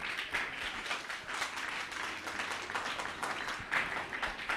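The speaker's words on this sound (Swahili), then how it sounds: "Mpigeni makofi wakati anakuja" A church youth seminar audience claps for a presenter as she comes up. The applause is faint and distant but steady throughout.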